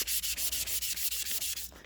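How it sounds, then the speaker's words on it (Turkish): Rhythmic back-and-forth wet sanding of a ceiling trim strip with sandpaper before spray painting, about ten even straight strokes in quick succession, close and steady with a gritty hiss. "Doğrusal bir şekilde zımparamızı yapıyoruz."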